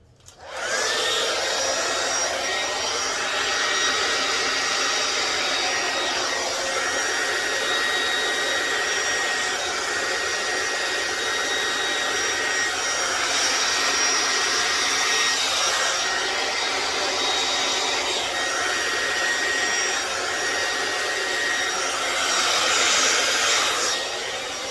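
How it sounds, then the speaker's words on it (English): Heat gun blowing a continuous loud whooshing roar over fluid art paint, held close and steady for the whole stretch with slight swells as it moves across the surface. "Hit it with a heat gun"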